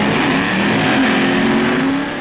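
Top gas dragster from 1965 NHRA drag racing accelerating down the strip, a loud, steady engine roar held for a couple of seconds with no talk.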